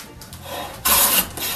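Hand plane cutting across wooden end grain, giving a short rasping scrape that swells into one loud shaving stroke near the end, close up and with no talking.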